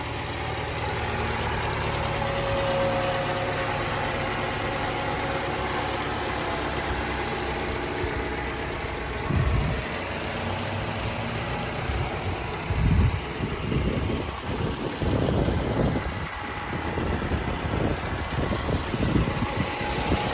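A 2013 Toyota Camry's engine idles in a steady low rumble heard close up, with a few soft knocks and handling sounds near the middle and end and no talking.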